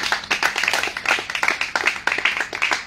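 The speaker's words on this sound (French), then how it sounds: "Alors on va applaudir d'abord pour le groupe." An audience claps for a music group at a band rehearsal in Kinshasa, with dense, close hand claps in a steady, somewhat rhythmic patter running throughout.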